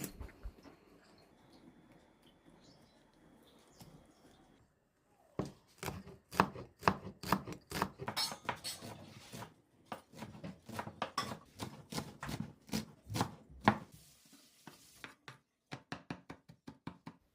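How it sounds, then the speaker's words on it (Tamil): A knife chops snake gourd into small pieces on a board, a steady run of crisp, close knocks that speeds into rapid bursts, with a quieter stretch at the start and no talking. "இப்போ இதை நல்லா வாஷ் பண்ணி எடுத்துகிட்டு சின்னதாக கட் பண்ணி எடுத்துக்கணும்."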